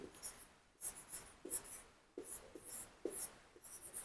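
Numbers are written by hand for a sixth-grade maths exercise. A pen or pencil scratches close and quiet in short strokes and taps with brief pauses between them, and no one speaks.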